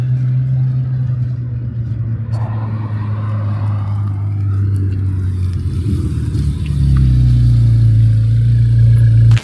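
An orange car, either a C8 Z06 or a Maserati MC20, rolls back in with a deep, steady engine drone that swells louder toward the end, close by and continuous.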